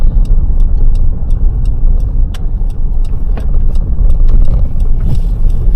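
A car driving along Marina Street on a driving test route at Raymond Terrace, New South Wales, its steady low road and engine rumble continuous and close, with no talking.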